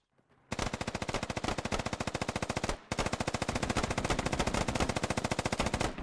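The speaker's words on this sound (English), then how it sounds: "That Dishka is still firing on Jackal as well on top of the police station." A DShK heavy machine gun in the video game Squad fires long sustained bursts of rapid, evenly spaced loud rounds, with a brief break before the fire resumes and continues steadily to the end.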